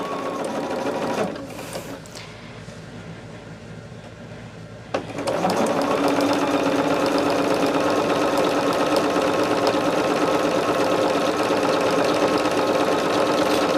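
A sewing machine runs a quarter-inch seam on a bag, starting with a short burst and a pause, then stitching in one long, steady, close run.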